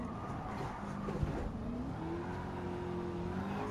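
A race car engine in Gran Turismo 7 pulls hard out of a corner, a steady mid-loud drone whose pitch climbs smoothly as the car accelerates, with a faint tire squeal edge.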